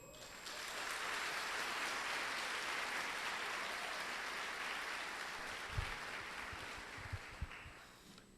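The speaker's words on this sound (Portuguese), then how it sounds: "Pode aplaudir." A church congregation applauds after a reading, a steady wash of clapping that runs evenly for several seconds in a reverberant space, with a few louder claps near the end.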